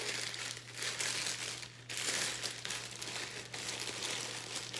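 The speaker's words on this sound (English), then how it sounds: "you take some grass, the little crinkly grass, you're gonna put it inside the treat bag" Crinkly paper Easter grass is pushed into a plastic treat bag, giving continuous close crinkling and rustling with soft pauses in between.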